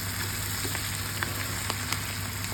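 Meat cutlets with a chanterelle filling fry in butter in a pan, giving a steady, even sizzle with faint crackles over a constant low hum, and no talking.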